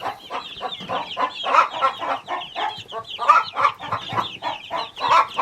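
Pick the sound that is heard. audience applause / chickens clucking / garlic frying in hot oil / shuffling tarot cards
chickens clucking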